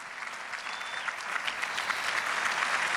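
An audience at a papal audience for engaged couples claps steadily, a dense and even applause that swells slightly over a few seconds.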